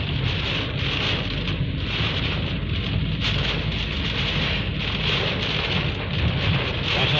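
Heavy storm rain in Jeddah pours down in a dense, steady hiss, loud and close, mixed with gusting wind and low rumbles.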